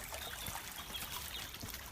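Water trickling in a brook beside a woodland path in a bluebell wood, a steady close babble and splash running without pause, with no one talking.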